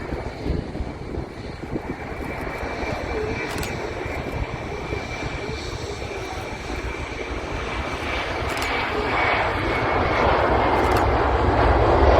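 A fixed-wing aircraft on its second approach into Manchester Airport, its engine roar steady and broadband, growing slightly louder as it closes in over the whole stretch with no talk.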